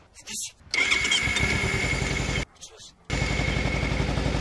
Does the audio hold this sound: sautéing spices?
no